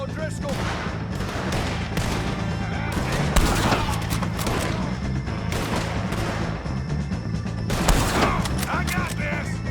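Loud gunshots ring out in Red Dead Redemption 2 amid a constant battle din, with several sharp cracks standing out above the steady rumble and voices speaking now and then.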